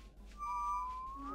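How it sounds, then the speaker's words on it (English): A single sustained whistle rises slightly in pitch over about a second, faint and alone on a foggy farm in Argentina. "Stop whistling at me."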